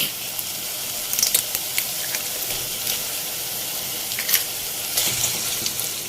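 Two eggs dropped into a pan of sizzling dhaba-style masala for anda masala, a steady hissing fry with crackling spatters and light clinks throughout.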